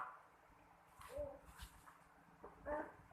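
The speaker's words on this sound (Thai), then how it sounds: "สุนัข" A dog whimpers and gives a few soft yips in short bursts, quiet and close, over a low hum.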